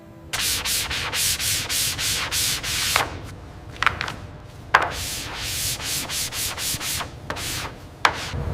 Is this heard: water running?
no